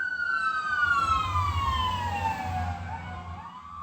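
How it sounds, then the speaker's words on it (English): An ambulance siren passes outside, a wailing tone sweeping downward as the vehicle goes by over a low road rumble, fairly distant and steady. "Oh, we have some sirens outside. I'm going to let those pass."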